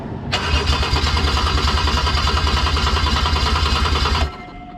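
A Toyota 1JZ-GTE VVTi engine cranks over on the starter during a compression test, a loud rhythmic chugging of even pulses lasting about four seconds before stopping, with no sign of the engine firing.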